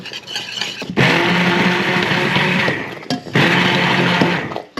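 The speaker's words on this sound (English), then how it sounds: "These larger mushroom pieces I'm going to blitz up with the food processor" A food processor whirs loudly as it blitzes chunks of mushroom for a cream of mushroom soup, running in two long, steady bursts with a brief pause between them.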